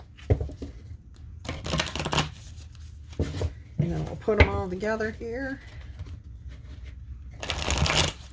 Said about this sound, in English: Let me shuffle them up real quick.